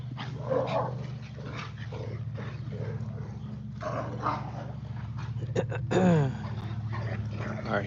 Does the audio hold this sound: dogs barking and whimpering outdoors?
yes